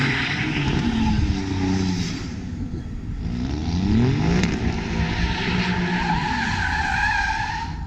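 At a cars and coffee meet, a car accelerates hard with tires screeching and skidding, the engine note rising and falling in sweeping pulls, loud and close, with the tire squeal sustained throughout.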